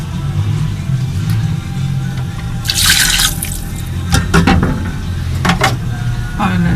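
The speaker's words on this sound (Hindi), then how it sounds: "अब इसमें मैं थोड़ा सा पानी शामिल करूँगी।" Water is poured into a pot of chicken for Sindhi biryani in a home kitchen. Splashing and dripping sounds come in short bursts over a low background hum.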